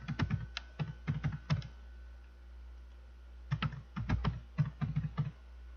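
Fingers tap on a computer keyboard in two quick bursts of crisp, close clicking keystrokes separated by a short pause, quiet and with no one talking.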